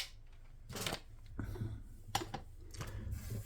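Designer series paper is cut in several short crisp snips spaced about a second apart, faint and close with no talking.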